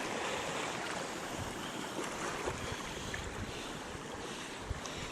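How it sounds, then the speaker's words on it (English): Ocean surf rolling in and washing up a beach under steady wind buffeting the microphone, a continuous broadband wash with no clear individual wave crash standing out. "here comes the wave. It's going to get my shoe wet."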